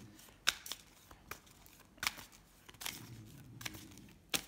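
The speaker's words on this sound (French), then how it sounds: "Alors je vais juste retirer une carte majeure là sur ce tirage." Cards are handled while drawing a major arcana tarot card from a deck, giving soft close papery slides, shuffles and a few crisp snaps at a quiet level.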